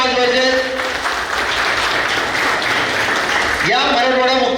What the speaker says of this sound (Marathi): सर्वच मान्यवरांसाठी एकदा सर्वांनी जोरदार टाळ्या वाजवायचे.